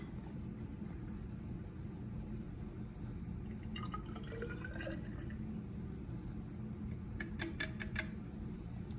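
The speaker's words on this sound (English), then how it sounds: "And just dump a little water in there." A small amount of water is poured into a graduated cylinder in a lab setting: faint trickles and drips arrive in two short bursts over a quiet background hum, with no voices.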